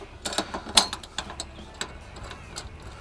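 A stock bolt with a star washer is screwed onto a Comet no-hole mobile antenna mount bracket, giving a close series of small, irregular metallic clicks and ticks that thin out toward the end.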